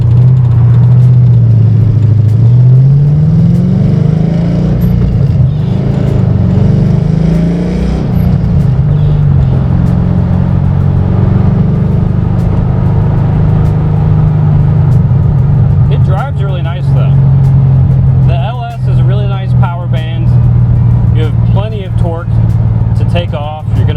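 An LS2-powered Datsun 280Z with long-tube headers and dual exhaust drives along, its deep engine drone rising and settling in a steady rumble heard from inside the car while someone talks over it throughout.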